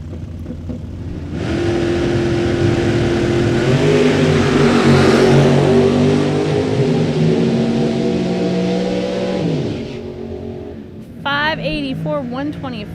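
A 1969 Camaro and a 1980 Malibu launch down a drag strip, giving a loud, sustained engine roar that swells and then tapers off while an announcer's voice carries over it.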